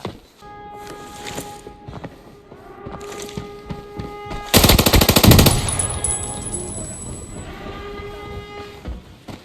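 Rapid automatic gunfire in the shooter game Arena Breakout, a loud dense burst in the middle of the clip over a quieter stretch of scattered in-game sounds and tones before and after.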